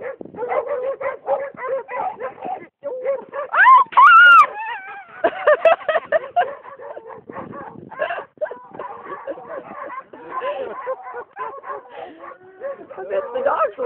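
Hunting dogs bark, yip and whimper excitedly after chasing a hog, close and loud, in a continuous overlapping burst with high-pitched whines rising in the middle.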